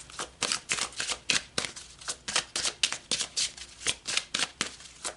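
Tarot cards are shuffled and pulled for a spiritual reading, a close run of quick, crisp riffling slaps in an even, repeating rhythm without any talk.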